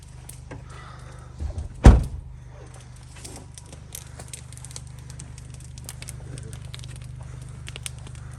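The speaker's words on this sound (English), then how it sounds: "Oh, better close my truck door." A truck door shuts with one solid thunk outdoors on a hunting opening morning near a big fire, followed by quiet ambient crackle and faint patter.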